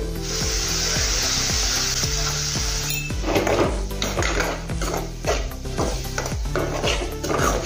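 Shredded cabbage and spices frying in a pan give a steady, close sizzle, broken by rhythmic scrapes and knocks of a spoon stirring the mix, with soft music playing in the background.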